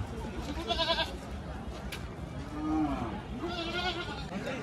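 A goat bleats a couple of times amid the crowd noise of a livestock market where goats and sheep are sold, with people talking nearby.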